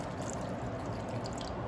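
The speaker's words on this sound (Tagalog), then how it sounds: "lagyan na po natin yan ng tubig" Water pours into a cooking pot for paksiw na tuyo, a steady, low splashing wash that runs without a break for under two seconds.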